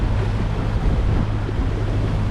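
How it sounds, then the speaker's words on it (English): Sailboat motor-sailing on the open sea toward a Mediterranean port in light wind, its engine a steady low drone under continuous wind and water wash, with no voices. "so I thought I'd just motor this last little bit"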